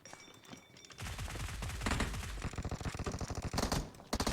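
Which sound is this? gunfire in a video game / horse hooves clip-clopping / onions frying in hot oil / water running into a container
gunfire in a video game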